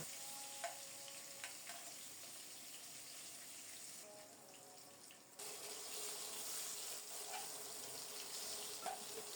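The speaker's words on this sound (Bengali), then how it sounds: "কাঁচকলাগুলিও লাল লাল করে ভেজে নেব।" Green banana pieces fry in oil in a home kitchen, giving a faint, even sizzling hiss with occasional soft clinks, the hiss growing a little louder partway through.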